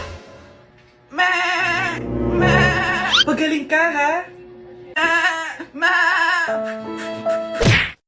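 A goat bleats repeatedly in a comedy skit, loud wavering cries in several bursts close to the listener, with a voice speaking between them.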